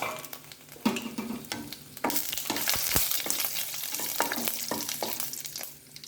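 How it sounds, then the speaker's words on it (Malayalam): Dried red chillies sizzle and crackle in hot oil for a bottle gourd thoran, a steady close frying hiss with occasional stirring knocks and a louder surge partway through, with no talking. "ഉണക്കമുളക് ഇട്ട് കൊടുക്കാം"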